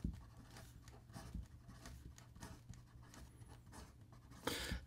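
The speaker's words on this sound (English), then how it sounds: "And then in regard to some fast writing," Fast writing with a Hinze B24 Starry Night fountain pen on paper, a close, quiet run of quick scratchy strokes in an uneven rhythm with a low hum underneath, alone with no talk.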